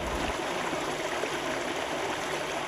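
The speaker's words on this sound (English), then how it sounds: "they like to stand here like this and watch the water goes by. It makes a nice sound." Stream water flowing steadily beside a rail trail, a close, continuous rushing and babbling with no breaks and no voices.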